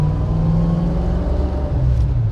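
A 1966 Ford Mustang coupe engine pulls through the gears from inside the car, a loud, steady low rumble with a continuous drone, no talking.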